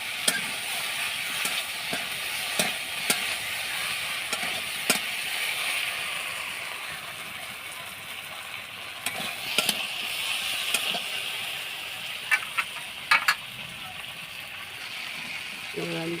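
Okra and shrimp curry sizzling and frying in a pan over a high flame, a steady soft hiss with occasional clicks and clatters of utensils, while a person talks intermittently over it.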